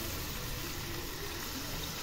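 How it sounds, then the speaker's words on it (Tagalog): Water poured into a pot of pinakbet, a Filipino vegetable stew, makes a steady, close rushing and splashing stream throughout. "So maglalagay ako dito ng tubig."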